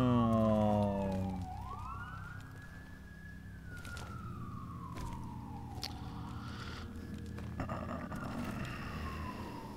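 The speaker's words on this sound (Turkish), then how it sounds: "Teşekkür ederim sirenler." Siren wailing in the background while playing the game Tails of Iron, a single rising and falling tone sweeping slowly up and down, moderately loud over a low rumble.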